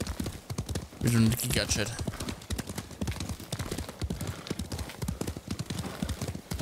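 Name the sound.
horse hooves galloping while riding in Ghost of Tsushima video game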